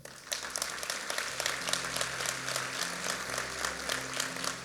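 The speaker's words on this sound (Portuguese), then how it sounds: "Você pode aplaudir o Senhor?" A church congregation applauds during a sermon, a steady wash of many hands clapping with distinct sharp claps throughout, faint and somewhat distant beneath a low sustained tone.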